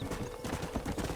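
Quick, rhythmic clip-clop of horse hooves trotting close by in the video game Red Dead Redemption, a brief burst of steady hoofbeats.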